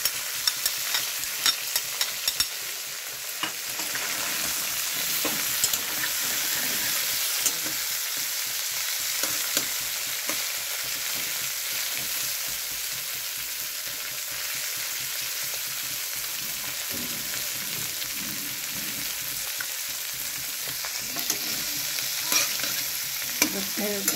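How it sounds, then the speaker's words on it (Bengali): Food with egg stir-fries in a pan with a constant loud hiss of hot oil, broken by occasional scrapes and taps of a spatula, close and continuous with no talking. "ডিম দিয়ে ভাজা ভাজা করেছি"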